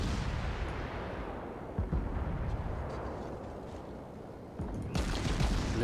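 Naval gunfire in World of Warships, heavy rolling booms of ship guns blending into a dense continuous rumble with a few sharper thuds, loud and sustained without talking.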